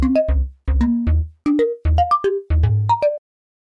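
Bright, in-your-face overdriven synth lead with a video game character, pushed through a treble drive booster: short punchy staccato phrases of quick notes with gaps between, jumping in pitch, played alone.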